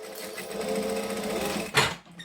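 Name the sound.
sewing machine stitching fabric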